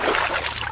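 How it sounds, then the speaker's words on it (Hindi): A cartoon bird tumbles into pond water, a short continuous watery splash and trickle lasting under a second, fairly loud and close, with no voices over it. "मीनू चिड़िया उस तालाब के पानी में गिर जाती है"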